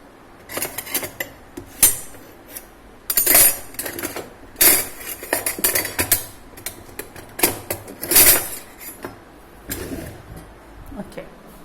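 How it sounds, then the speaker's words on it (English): A spatula scraping and clinking against a pan while mixing tossed sabudana khichadi, irregular metallic taps and scrapes in quick clusters, fairly close, with brief pauses between strokes. "now I will use the spatula to mix it"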